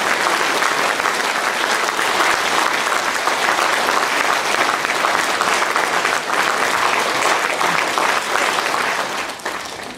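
Audience at a Ukrainian novel presentation by Vasyl Shkliar applauding the author in a sustained, dense ovation, loud and steady throughout before easing slightly at the very end.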